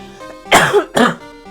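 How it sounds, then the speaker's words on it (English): A man coughs twice in quick succession, close and loud, with a soft musical background underneath during a Phoenix Wright: Ace Attorney playthrough. "I keep coughing, I'm so sorry."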